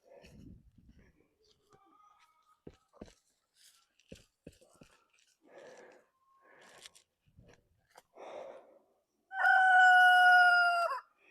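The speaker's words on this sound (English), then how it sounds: "too many roosters." Roosters crow loudly near the end in one long harmonic call, after scattered quieter clucks and rustling sounds, with faint background voices earlier.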